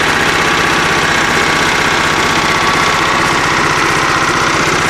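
A John Deere L110 lawn tractor with a Kohler engine runs steadily after a charging system repair, a loud, close, even mechanical drone with a fast pulsing rumble and no voices over it.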